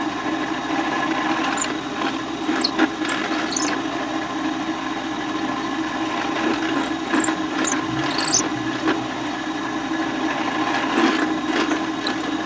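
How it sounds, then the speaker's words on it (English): A drill press with a 5/32 bit bores six string holes all the way through a guitar body built from scrap wood such as basswood or mahogany. The steady motor hum runs under the drilling throughout, and several brief higher-pitched bursts mark the bit cutting into the wood. "Let's take this over to the drill press and we'll drill these 6 holes."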